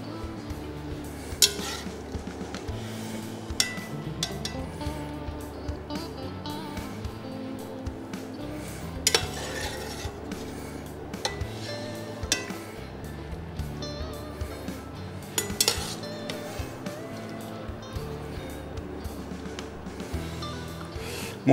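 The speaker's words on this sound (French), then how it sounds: "Prendre une petite écumoire pour récupérer un petit peu les lardons." A small metal skimmer clinks and scrapes against a cooking pot while lifting lardons out, with repeated light metallic taps and utensil knocks over a low kitchen background.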